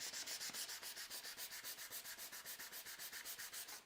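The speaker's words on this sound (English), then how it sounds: "torn out grains taken care of with some turning and some hand sanding" Rhythmic hand sanding of a turned wooden bud vase, about two strokes per second of steady rubbing, close and alone with no talk.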